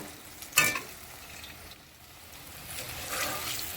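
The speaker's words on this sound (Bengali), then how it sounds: "এই যে মাখাটা এই একটু লাল করে ভেজে নেব" Chur kofta mixture frying in a pan gives a soft, low sizzle, with one sharp clatter early on and a gently swelling hiss toward the end.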